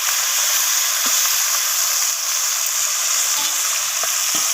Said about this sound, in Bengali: মাছের মাথাগুলোকে আমি একটু ওলট পালট করে দু পিস ভালোভাবে লাল লাল করে একটু ভেজে নেব